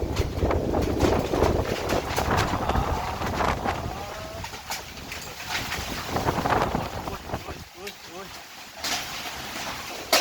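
Strong storm wind with a little rain buffets the microphone in rough gusts while a person talks over the blustery noise.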